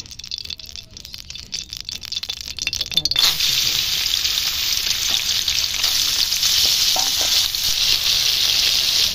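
Cooking oil goes into a very hot wok for frying prawns; after a quieter start of clinks, a loud, steady frying sizzle bursts in and keeps going, close and continuous, with no talk.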